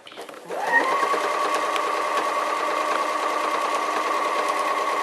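A sewing machine quilts a layered quilt: after a faint start it settles into a steady, continuous mechanical whir that holds evenly, close and fairly loud, with no pauses.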